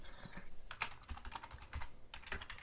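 Computer keyboard keys tapped in quick irregular bursts at close range while a password is typed, quiet and with no voices.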